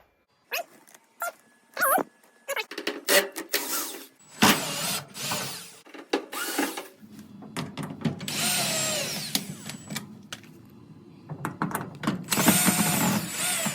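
Power drill removing screws from an LG dryer during heater assembly replacement, heard as several short whirring bursts between clanks and handling noise, with a dog barking at times in the background.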